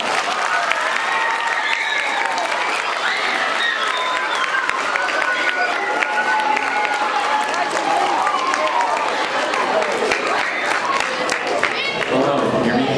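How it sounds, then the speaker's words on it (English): A school audience in a middle school gym or auditorium claps and cheers loudly and steadily for a visiting guest, the dense applause mixed with crowd voices and shouts throughout. "So a big round of applause and a big welcome to Mr. Ray Robb."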